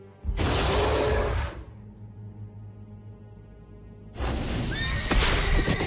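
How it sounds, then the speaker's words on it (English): Two loud horse neighs from the video game Marvel Avengers Alliance, the first a long whinny, then a quieter gap with a low tone, then a second whinny with hoof-like clatter. "Horse."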